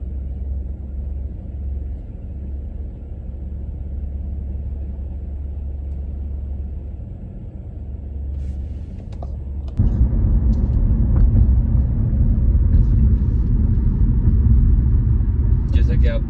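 A car idles at a traffic signal with a steady low rumble, then pulls away as the engine noise swells and stays loud and close until the end.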